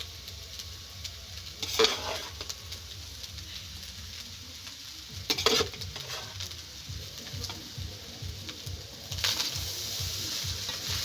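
Rice being stir-fried in ghee in a pan, giving a steady soft sizzle with scraping stir strokes at intervals, close and moderately loud, without speech.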